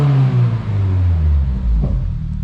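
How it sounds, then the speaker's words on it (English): A 2023 Subaru WRX with an upgraded turbo revs on a dyno, the engine rising to a loud, rowdy roar, then falling back toward idle. "Now, I don't know why, but the car seems quite a bit rowdier."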